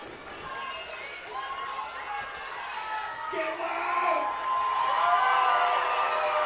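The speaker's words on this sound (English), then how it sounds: "will have to deal with this crowd getting louder" Football stadium crowd roaring with cheers and whoops, a steady dense wash of voices that swells noticeably louder toward the end.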